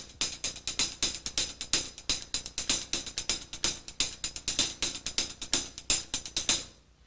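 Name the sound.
paradiddle snare drum solo played on the hi-hat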